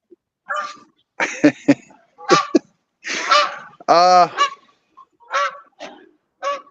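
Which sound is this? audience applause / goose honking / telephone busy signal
goose honking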